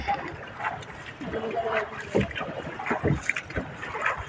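A boat moves on a river, with a low rumble, water sloshing and wind noise against the microphone, while voices talk faintly in the background.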